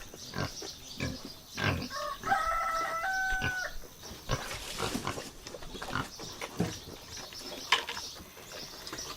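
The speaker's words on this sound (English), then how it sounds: "I'm going to give these pigs some milk so they'll be quiet." Pigs on a homestead grunt and squeal in bursts among other farm animals, with a rooster crowing partway through; the calls are close and uneven, with no talking.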